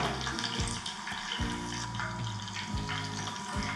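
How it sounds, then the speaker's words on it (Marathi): Cheese balls seasoned with plenty of spices frying in hot oil, a steady close crackling sizzle with occasional low thumps and clinks, no voices. "आता याच पद्धतीने मी माझे पुढचेही चीज बॉल्स तळून घेते"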